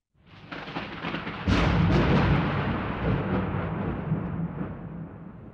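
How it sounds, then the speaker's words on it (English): A dramatic storm sound effect at sea: a low rumble builds, then a loud thunderous crash at about one and a half seconds gives way to a long roaring wash like wind and waves, slowly fading. "Now a storm is coming. The waves are getting higher and higher. The wind is tearing the sail."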